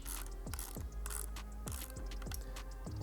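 Ratchet wrench tightening bolts on an Elite-1 low-mount fender eliminator on a 2021+ Yamaha MT-09: steady, rhythmic clicking in quick repeated strokes, close and crisp, with no talking.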